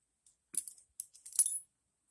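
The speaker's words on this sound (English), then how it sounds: "Here is Berg and Berg Victor keys." Berg and Berg Victor keys jingling: a few short, light metallic clinks and rattles in two small bursts, close and fairly quiet against silence.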